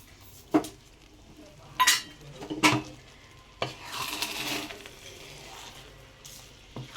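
Sugar being stirred into basanti pulao in a pot: several sharp spoon clinks and scrapes against the pot at uneven intervals over a faint background sizzle.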